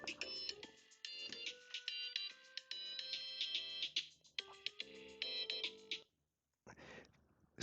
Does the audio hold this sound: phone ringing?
yes